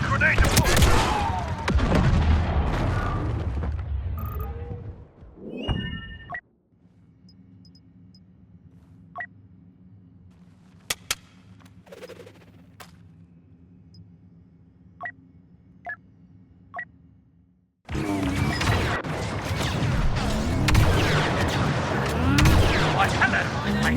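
Grenade blasts and blaster gunfire from Star Wars Battlefront II on Geonosis, loud dense bursts of battle noise at the start and end with a quieter stretch of hum and a few sharp isolated shots between.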